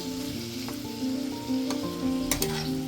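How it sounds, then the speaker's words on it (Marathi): Onion and tomato cook in a pan, giving a steady close sizzle with a few soft stirring clicks over a faint background tone. "कांदा आणि टोमॅटो चांगलं शिजून घ्यायचे"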